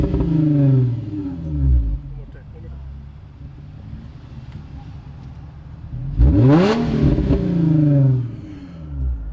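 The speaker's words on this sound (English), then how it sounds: "that's the sound of a 350, pretty much stock" A nearly stock 350 car engine fitted with Flowmaster exhaust revs twice, each throaty burst climbing and then falling away, with a quieter idle in between.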